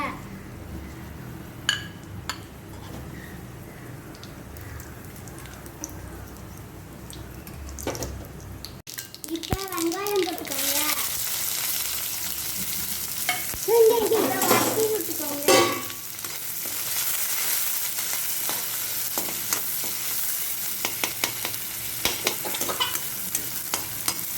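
Mustard seeds, chana dal and dried chili drop into hot oil and burst into a loud, crackling sizzle that continues with popping and spattering, close by, with someone speaking in the quieter stretch before and briefly over it.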